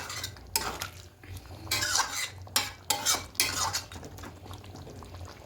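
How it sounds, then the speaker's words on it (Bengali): Chicken kosha is stirred in a pan over medium-high gas, a spatula scraping and clinking against the metal in irregular bursts over a soft background sizzle, with no voices. "খুব ভালো করে এবার মিশিয়ে নেব"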